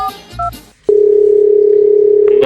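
Steady telephone dial tone heard from a handset while placing a call, a single continuous hum lasting over a second and a half after a few brief beeps and rustles.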